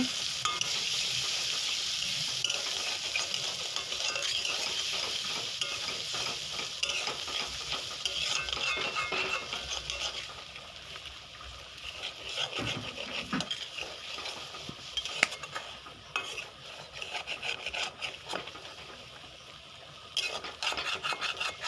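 Egg and spice masala is stirred in a frying pan with a steady sizzle and continuous scraping, close and dense, softening midway and then picking up again.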